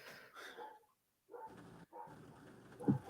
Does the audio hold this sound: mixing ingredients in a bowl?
no